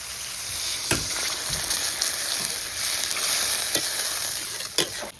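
Water poured into a pan of potatoes frying with spices on a village wood fire sets off a steady, loud hiss of sizzling, broken by a few sharp stirring knocks.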